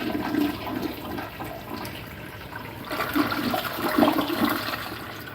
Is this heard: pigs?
no